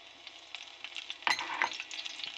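Chopped garlic frying in a pan for fried rice and chicken fry, a steady broadband sizzle with a few sharper spits and pops as it is stirred, close and fairly quiet, no voices.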